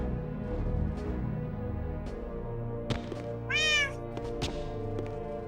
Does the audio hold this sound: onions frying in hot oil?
no